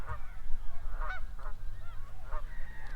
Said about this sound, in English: The sound of the noisy geese.